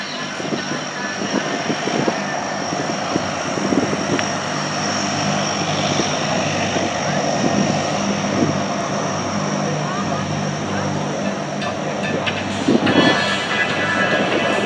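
A Mohawk propeller aircraft, a military type built from 1959 to 1970, flies at an airshow, its steady engine drone loud and continuous with crowd noise and voices mixed beneath.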